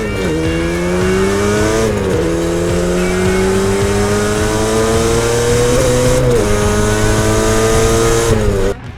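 A 1980s Yamaha RD 350 LC two-stroke motorcycle engine revs loud and close, its pitch climbing steadily through the gears with brief dips at each shift, continuous for about nine seconds.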